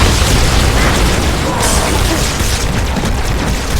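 A grenade explosion in the Halo 2 Anniversary video game, a loud sustained blast with dense broadband rumble amid continuous game noise and combat clatter.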